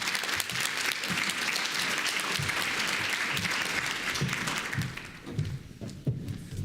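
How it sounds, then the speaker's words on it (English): An audience at a dairy ambassador competition claps in sustained, dense applause that holds steady before thinning into scattered claps at the end. "I think we should give him one more round of applause"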